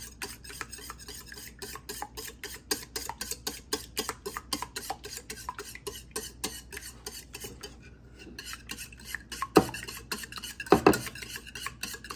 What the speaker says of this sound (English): So now we're going to be whipping our egg.